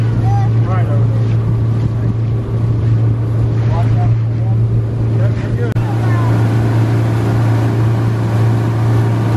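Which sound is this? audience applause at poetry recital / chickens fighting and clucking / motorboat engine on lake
motorboat engine on lake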